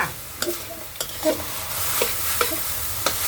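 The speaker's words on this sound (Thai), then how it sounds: "ผัดแป๊บเดียวก็เสร็จแล้วนะคะ" Cantonese-style noodles with cabbage, carrot and mushrooms are stir-fried in a pan. A soft sizzle runs under a series of sharp, evenly spaced scraping and tapping strokes from the spatula, close and fairly loud.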